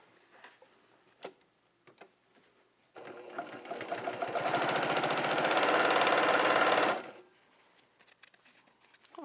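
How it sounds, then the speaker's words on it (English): A sewing machine runs for about four seconds in one steady burst while two fabric pieces are stitched together, with light handling clicks before and after and no speech. "we can just sew 2 at a time"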